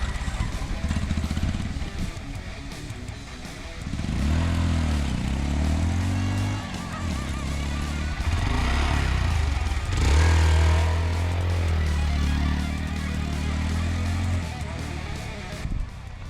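A motorcycle engine idles and revs up and down nearby, its rumbling drone rising and falling in pitch through several throttle bursts over a steady running background.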